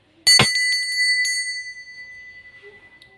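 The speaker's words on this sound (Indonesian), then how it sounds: "Jadi di sini kita akan memulai dengan ditandai lonceng berbunyi." A small bell is struck with a few rapid rings to mark the start of a tarot card reading, its bright, clear tone sounding close and loud before decaying slowly into quiet.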